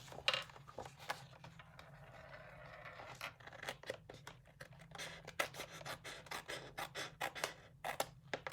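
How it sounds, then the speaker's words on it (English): Paper edges of a scrapbook layout are trimmed, a run of quiet close snips and rasping cuts that quicken toward the end over a low hum. "let's trim off the edges and see what we've got going on"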